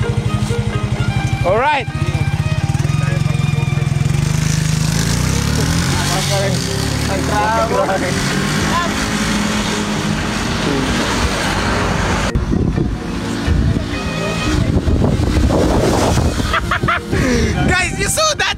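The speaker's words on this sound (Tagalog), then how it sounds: "He's going to test the Suzuki Smash." A stock Suzuki Smash motorcycle engine runs loud and close as it is ridden, revving and shifting throughout, with shouting voices over it.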